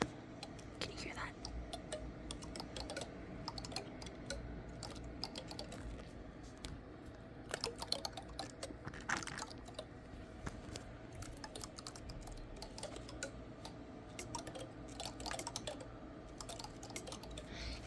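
Quiet scratchy, crackling taps and light rubbing against prickly spines, close up and soft, with faint whispering underneath.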